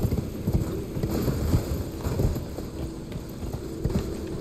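Horse hooves gallop in Elden Ring, a rapid, continuous clip-clop of running strides heard close and fairly loud, with no talking.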